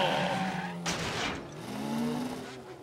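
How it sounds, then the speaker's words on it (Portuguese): Race car engines revving in rising and falling tones, broken by a sharp screech of skidding tires. "Os motores estão esquentando!"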